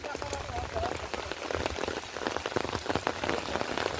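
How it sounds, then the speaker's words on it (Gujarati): Heavy rain pours down steadily in Mehsana, a dense broadband hiss with scattered drops striking a surface, continuous and loud throughout. "ફૂલે ફૂલ વહરાત ને ફૂલે ફૂલ પાણી"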